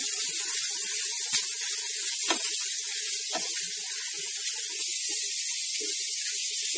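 Finely chopped onions sauté in a pan with a continuous soft hiss and occasional faint pops and scrapes, close and steady, without any talking.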